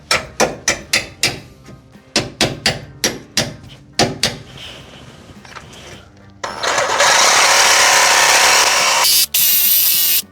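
Sharp hammer blows strike a chisel against the metal front end of a 3rd-gen Toyota 4Runner, coming as quick bursts of closely spaced metallic clanks; a loud, steady power-tool whine takes over near the end.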